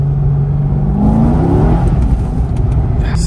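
C6 Corvette engine pulling hard in second gear around 2,500 RPM, on tires badly in need of replacement; a loud, close, rising engine note that climbs steadily for about three seconds, with no talk.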